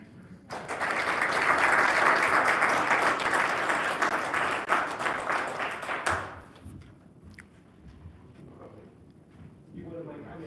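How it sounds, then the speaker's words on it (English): A room of attendees at a city council meeting breaks into applause, a full round of clapping that swells, holds for several seconds and cuts off, leaving quiet room sound with faint talk. "So I just want to give them a great round of applause."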